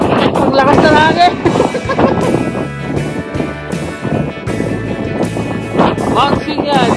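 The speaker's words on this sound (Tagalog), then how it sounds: "Ang lakas ng hangin." Strong wind buffets the microphone on the summit of Mount Singian, about 600 meters above sea level, roaring in loud, uneven gusts beneath excited voices talking throughout.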